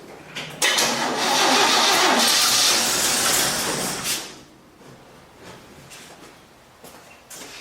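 The engine of a 1967 Chevy C10 pickup, after an engine swap, catches with the choke fully on, revving loudly for about four seconds before dropping to a quieter, uneven idle.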